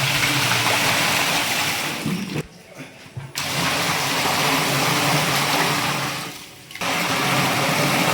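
Water gushes steadily and loudly into a large pot for wedding-style special masala biryani, stopping twice for a moment before the pour resumes. No one speaks.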